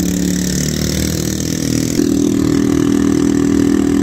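Loud, raw engine of a Mexican vehicle running without an exhaust muffler, idling with a heavy low drone that steps up slightly in pitch and volume partway through, close by and alone.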